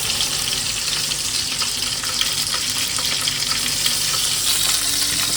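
Onions fry in a pan with cinnamon, cardamom, bay leaf and cloves, giving a dense, steady sizzle that stays loud and even from start to finish with no voices.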